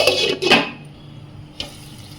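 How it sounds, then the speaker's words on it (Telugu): A metal lid clanks onto a pan of simmering mushroom curry in a home kitchen, two quick knocks followed by a fainter tap, with quiet room noise in between. "ఈ విధంగా తిప్పి తిప్పి సిమ్లో పెట్టి మూత పెట్టుకుందామండి"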